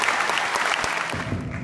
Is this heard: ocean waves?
no